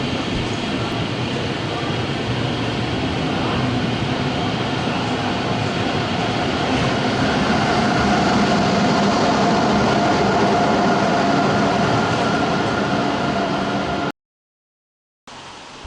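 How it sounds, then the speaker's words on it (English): Steady rumble of a train idling at a station platform, with a continuous low engine drone and broad hiss that runs unbroken for most of the stretch and then cuts off abruptly near the end. "Oh, that's my train."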